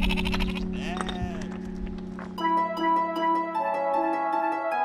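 North Ronaldsay sheep on a seaweed-grazing shore, bleating in wavering cries over a steady low drone, with a second run of bright layered calls in the latter half and voices talking through it.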